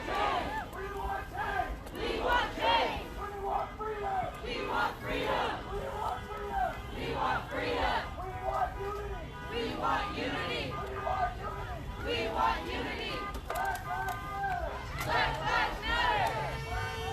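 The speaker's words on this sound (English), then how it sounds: "Crowd now chanting ACAB" Protest crowd at a police brutality demonstration in Dallas chanting ACAB in unison, rhythmic shouted bursts repeating every second or so, loud and close with crowd noise between chants.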